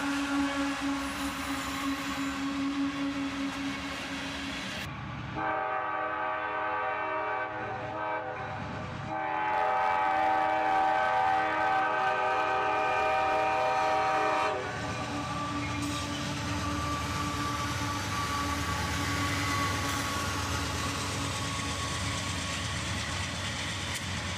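A freight train with a rebuilt locomotive running as a mid-train DPU sounds a long, steady horn over the rolling rumble of rail cars, then keeps passing at a moderate distance.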